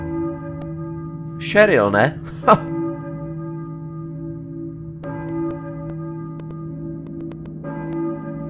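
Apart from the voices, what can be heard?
church bell ringing in the video game Silent Hill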